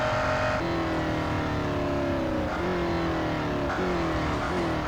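A loud race car engine in a racing video game drones steadily at high revs, its pitch dipping and climbing with gear changes, continuous and close.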